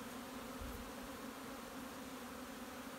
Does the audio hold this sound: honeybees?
yes